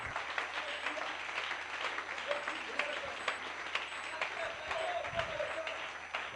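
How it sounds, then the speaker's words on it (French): A church congregation applauds and cheers, the sound faint and diffuse, with voices calling out over continuous clapping. "Est-ce qu'on peut acclamer le Seigneur?"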